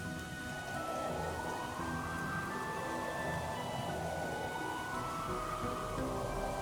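Steady, faint rain falls in the video game Trails in the Sky the 3rd, a continuous soft patter with gentle swelling tones drifting through it and no voices.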